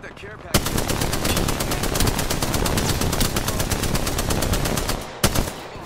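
Rapid, sustained automatic gunfire from a battle royale video game, loud and continuous for about five seconds, with a sharp extra shot near the end.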